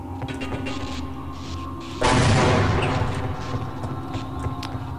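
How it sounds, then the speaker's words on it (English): Grenade explosion in Half-Life: Opposing Force, a single sudden loud blast about midway that decays into a rumbling tail over a low background hum. "Let's just tip a grenade on the other side here."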